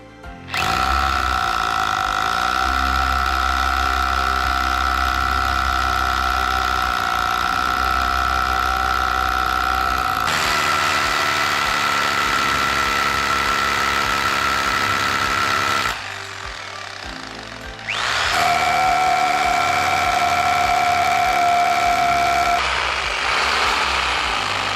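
A power drill bores holes into logs for growing shiitake mushrooms, giving a loud, steady motor whine that runs in long stretches with a brief pause and change of pitch midway.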